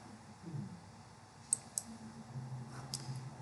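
A couple of sharp, faint clicks from a computer mouse, close up, followed by another soft click a moment later against a quiet room hiss.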